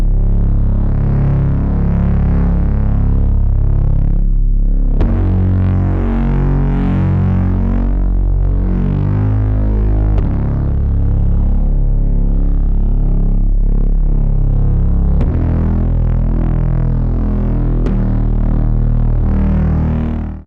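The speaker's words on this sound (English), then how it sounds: "So all together, this bass sounds like this." Heavy distorted sub bass drives a song, thick and loud with sustained gritty notes that shift pitch every few seconds, playing alone without other instruments.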